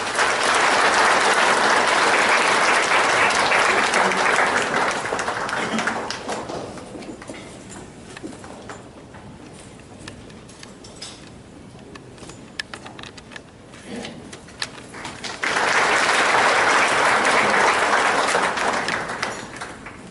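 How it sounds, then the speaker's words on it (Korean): A lecture audience claps to welcome a professor at a Gumi Chamber of Commerce talk. Loud sustained applause for several seconds fades to quiet room noise, then a second strong round of clapping rises near the end. "4차 산업혁명 시대의 기업혁신 전략이라는 주제로 강연을 해주실 주영석 교수님을 뜨거운 박수로 모시겠습니다."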